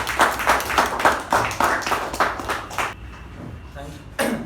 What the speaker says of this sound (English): With this huge round of applause,